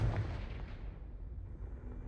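A deep, booming Confringo blasting-spell explosion in Hogwarts Legacy, a single close blast that fades into a low rumble.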